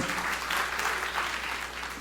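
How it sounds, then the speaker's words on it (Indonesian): Audience at an Indonesian church sermon applauding warmly, a steady dense clatter of many hands clapping for about two seconds with no voices on top. "Tepuk tangan yang meriah untuk kamu"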